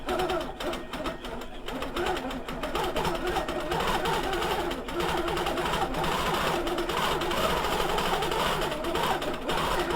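A sewing machine runs steadily while stitching small quilting stitches, a continuous fast mechanical whir that stays close and fairly loud with a brief lighter start.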